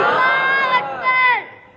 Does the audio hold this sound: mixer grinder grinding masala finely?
no